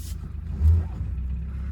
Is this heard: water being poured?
no